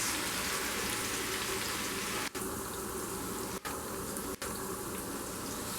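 Two medium onions sizzle in hot mustard oil, a loud, dense, continuous hiss close up, broken only by a few sharp momentary dropouts.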